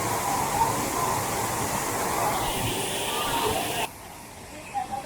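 Savdav waterfall near Kankavli in Sindhudurg, Konkan, pours as a loud, steady broadband hiss of falling water that drops away abruptly near the end, with crowd voices around.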